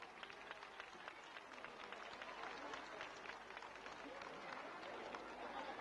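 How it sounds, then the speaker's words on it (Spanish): Audience applause for a councilwoman at a 1993 senior beauty pageant, steady scattered clapping from a crowd, faint and distant, sustained across the whole stretch. "Hai que darlle un aplauso a señora concellada"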